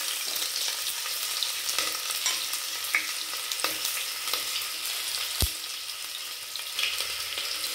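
Onion frying in hot oil with mustard seeds, chana dal and urad dal for mint rice, a constant bright crackling sizzle with scattered pops and one sharp knock, close up and unvoiced.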